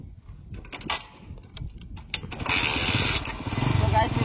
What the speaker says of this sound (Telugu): అయితే మన బైక్ సౌండ్ అయితే ఒకసారి విందాం గైస్